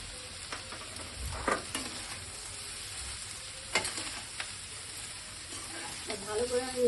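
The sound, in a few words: stirring fried rice with chicken and vegetables in a pan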